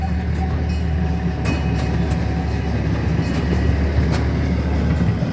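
A zoo train rolls steadily along the tracks with a continuous rumble and occasional metallic clicks, heard from on board with no talking.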